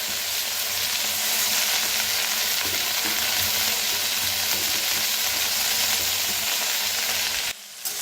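Fenugreek leaves stirred and fried in a pan make a dense, steady sizzle with a constant hiss that runs for several seconds, then cuts off abruptly just before the end.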